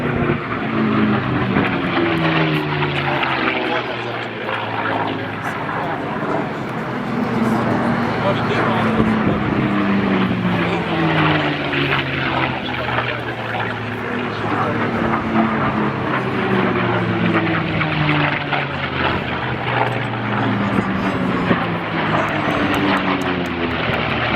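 Racing airplanes roar past at the 2011 Reno Air Races, their engines a loud, sustained drone with repeated passing sweeps, while an announcer talks over them throughout.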